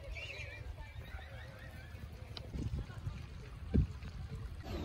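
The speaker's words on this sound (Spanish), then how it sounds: "podemos montar a caballo." Horse at an ecological park near Quito, Ecuador, giving a faint whinny amid distant outdoor ambience, with soft thuds and a brief close knock, and a voice murmuring quietly in the background.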